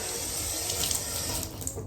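A bathroom tap runs steadily into a sink during a skincare routine, a close, constant rush of water with faint splashing and no speech.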